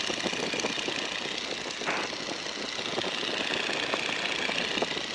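Radial engine of a 1942 Boeing N2S-2 Stearman biplane in a climb, a steady loud droning roar with rough pulsing texture that stays constant throughout, with no talk.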